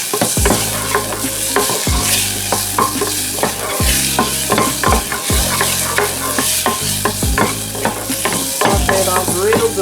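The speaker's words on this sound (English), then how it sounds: "Then I'm gonna come with my shrimp pieces. I'm gonna saute that off a little bit." Shrimp pieces sautéing in olive oil for a gourmet salmon meal, a loud continuous sizzle broken by a regular rhythm of wooden spoon stirs and scrapes against the pan.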